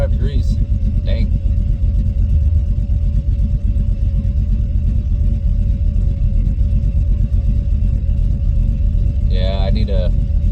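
An LS-swapped Chevrolet Monte Carlo engine idles with a steady, loud, low rumble throughout, and brief voices are heard at the start and end.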